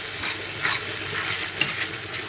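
Egg sauce sizzling and frying in a pan with occasional stirring scrapes, a steady close crackle that swells in brief bursts, with no talking.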